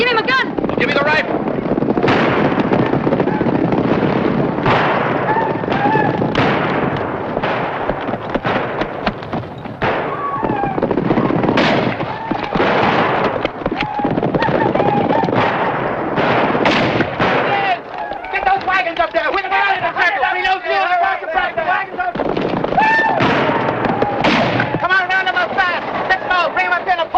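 Rifle shots crack out in a 1950 western film, loud bursts mixed into a busy battle soundtrack with shouting voices and other noise, the firing thinning out toward the end.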